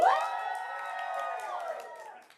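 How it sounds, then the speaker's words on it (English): Studio audience bursting into cheering and whoops on cue, a sustained crowd roar that starts with a loud burst and holds steady for about two seconds before tapering off. "on the count of 3, blow up into that applause"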